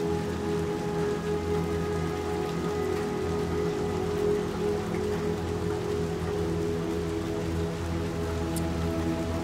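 A heavy downpour in Little Nightmares 2 hisses steadily on surfaces, loud and unbroken throughout, with a low droning hum beneath and no talking.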